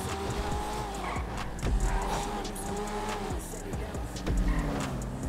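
Sports car in GTA 5 skidding while driving hard, a sustained engine drone with wavering tire squeals and rising and falling revs, loud and close, with a voice talking over it.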